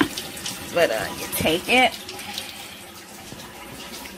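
Tap water runs into a small bucket for a portable washing machine, a steady close splashing rush under a few spoken words.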